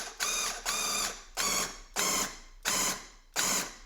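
Paint sprayer running at reduced speed while laying down paint, giving six evenly spaced bursts of bright hissing, rattling mechanical noise with brief gaps between them, close and moderately loud.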